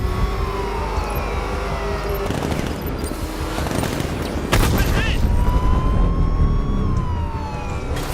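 Gunfire in the Batman Arkham Knight game, dense bursts of automatic fire mixed with sirens and engine noise, loud and close, with shouted voices over it.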